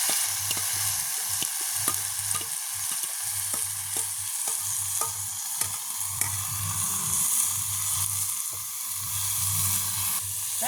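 Radish, onion and chili being stirred as they fry in a pan, a steady close sizzle broken by repeated spoon scrapes and knocks in an uneven rhythm, with no voices.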